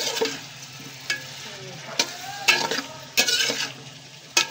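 Potatoes and spices sautéing for katla fish curry sizzle steadily in a pan while a spatula scrapes and stirs in regular strokes, each stroke bringing a brief, louder rasp.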